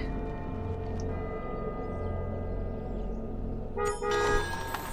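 A car horn toots from outside, coming in near the end as a short burst of bright honks over a low, steady background rumble.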